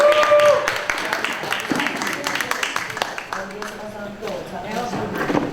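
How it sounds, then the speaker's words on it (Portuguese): Audience clapping at a lecture event as a speaker's voice continues over it, a moderate patter of applause that fades and then picks up again. "Palmas pra Andressa."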